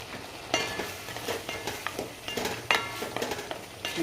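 Kootu curry bubbles and simmers in a pan as a piece of jaggery goes in, with a soft steady sizzle broken by several sharp clinks and scrapes of a utensil against the pan.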